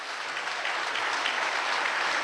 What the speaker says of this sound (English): So let's give Dahmer a round of applause.